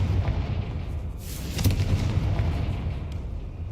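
Hogwarts Legacy's Confringo fire spell bursts with a sharp, bright blast midway through a constant rumbling bed of noise, with softer crackles trailing off afterward.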